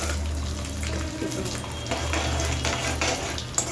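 Bitter gourd pieces fry in a pan, a continuous close sizzle with stirring scrapes and a low hum beneath, while a person talks over it.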